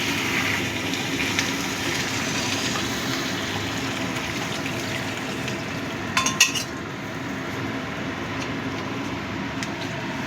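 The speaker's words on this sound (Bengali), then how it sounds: "এবার যে মাটন সেদ্ধ করে রেখেছিলাম জলটা, সেই জলটা দিয়ে দিচ্ছি।" Mutton stock being poured into a pan of mutton kima curry, a steady gushing pour over a continuous bubbling hiss, with a few brief metallic clinks of a utensil against the pot partway through.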